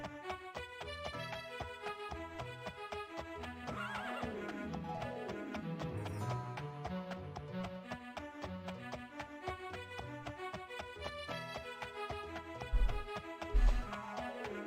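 Horse hooves beat steadily while riding in the video game Daggerfall Unity, a continuous gallop mixed under loud layered game music, with a couple of heavier thumps near the end.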